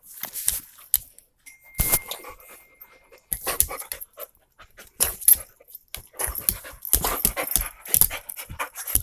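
Dogs pant close by in quick huffing bursts while playing with a cat toy, with scuffling, sniffing and clattering in between and a faint ding partway through.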